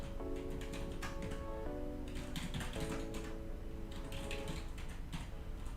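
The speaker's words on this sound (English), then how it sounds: "I know you can't see me typing." Fast clicking keystrokes on a computer keyboard rattle on steadily over a sustained musical tone and background hum, moderately loud and close.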